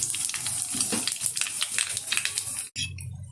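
Black mustard seeds and whole cumin crackle and sizzle in hot white oil, a dense spattering hiss that cuts off abruptly, then a quieter sizzle continues.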